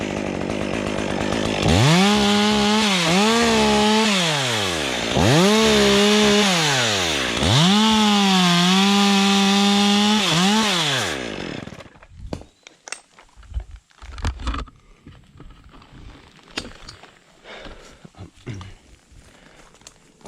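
Chainsaw cutting during a tree removal: the engine revs loudly in three rising and falling bursts as it bites into wood, then cuts off, leaving scattered knocks and rustling.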